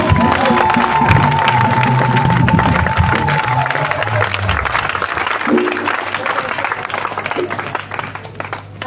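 A church congregation at a Friday evening praise service acclaims the Lord with loud, sustained applause and cheering, while a voice talks over the crowd.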